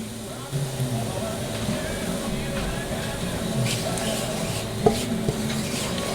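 Flour stirred into onions that have been frying for about four minutes, a soft scraping and sizzling with faint utensil clinks, heard alongside a person talking.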